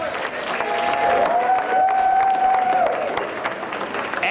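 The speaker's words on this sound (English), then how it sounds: "Let's give our judges a round of applause." Audience applause for the judges of a karaoke stage show, a steady, full wash of clapping under a sustained tone, loud and continuous throughout.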